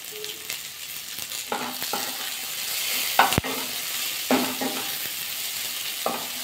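Egg, carrot and cauliflower fry in a pan for a Bengali mixed vegetable dal, crackling with a steady sizzle broken by scraping stirs and one sharp knock of a utensil.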